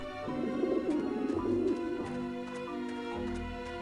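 Pigeons coo in a low, throaty rolling call during a scene in the Grim Fandango video game, a clear repeated burble that eases off after a couple of seconds over soft background sound.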